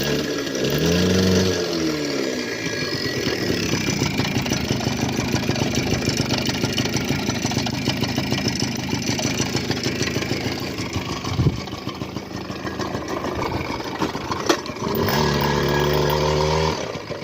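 A Yamaha QT50 moped engine runs at a steady idle, a close, continuous buzzing putter that swells briefly with small revs near the start and end.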